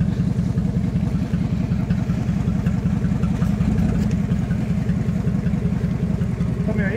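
A Jeep engine held at steady throttle while climbing an off-road slope through the woods, giving a loud, continuous low rumble that stays even from start to finish with no talking.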